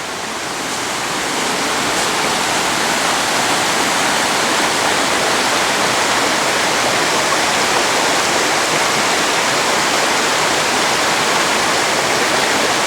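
A river flowing near a house at the edge of a national nature park, a steady, loud broadband rush of water like a small waterfall or stream, continuous and unbroken with no voices.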